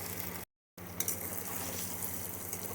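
Onions sauté in oil in a pan for appalam poo kuzhambu, giving a steady soft sizzle and crackle close by, broken by a brief moment of silence.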